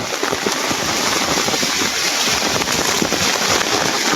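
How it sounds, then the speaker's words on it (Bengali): Heavy rain pours down in a dense, constant roar, with rapid drops pattering loudly and evenly throughout, no voices. "দেখ কী কী পরিমাণে বৃষ্টি আসতে আছে"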